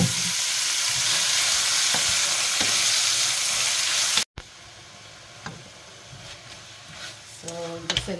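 Beef hitting hot garlic oil for garlic pepper beef, giving a loud, dense frying sizzle for about four seconds that cuts off abruptly, followed by quieter spattering and a few utensil clinks.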